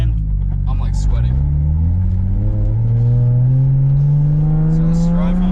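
A BMW 335i drift car drives along with its engine droning close inside the cabin, the pitch climbing steadily through a gear as it pulls, with a loud continuous rumble and a brief shift near the start.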